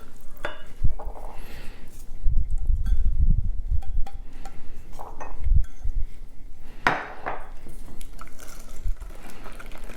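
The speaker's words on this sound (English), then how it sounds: "Stir that in so it gets a little thinner" A spoon stirs orange juice into custardy batter for Portuguese orange queijadas, making close, uneven scraping and knocking against the bowl in irregular bursts, with no one talking.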